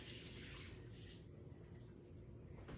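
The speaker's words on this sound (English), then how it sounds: "I'm going to pour off the water on this real quick," Brine drained off a block of feta into a kitchen sink, a steady close splashing pour running the whole stretch and thinning out toward the end.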